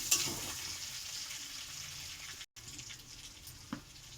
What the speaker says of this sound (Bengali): আলুগুলো তেলে দিয়ে দেওয়া হলো আলুটাকে একটু লাল লাল করে ভাজবো